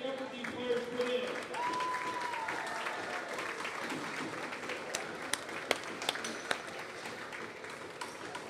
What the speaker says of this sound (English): Let's have a loud round of applause for the effort these players put in.